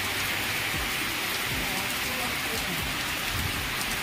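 Heavy monsoon rain pours down steadily during a riverside flood, a dense, loud, unbroken hiss of rain on surfaces with no pauses.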